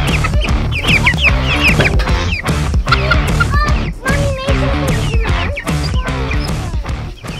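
A flock of Cornish cross chickens clucks and chirps continuously up close, with many overlapping calls and busy scratching sounds throughout.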